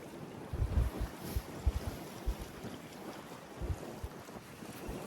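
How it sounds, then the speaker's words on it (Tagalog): Strong gusting wind buffets the microphone on a boat at sea, with irregular low thumps and rumbles over a constant rushing hiss and faint water wash. "Kaso nga lang po, sobrang lakas po ng hangin."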